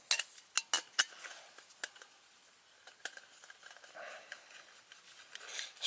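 An MSR WindBurner stove threaded onto a gas canister at a wild camp, giving a run of sharp metallic clicks and light scraping taps, close and fairly quiet, irregular over several seconds.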